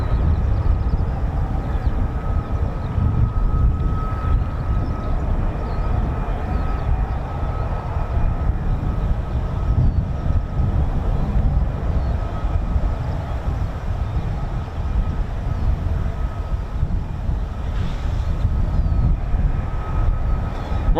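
Pratt & Whitney F135 engine of an F-35B stealth fighter at an RAF airbase, a loud, steady jet roar with deep rumble and a faint high whine, continuous for the full span with no talk.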